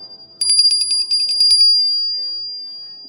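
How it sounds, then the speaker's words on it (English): A small handheld summoning bell is shaken in a quick run of bright, close rings, then a single clear tone lingers and fades alone. "Or I have the summoning bell."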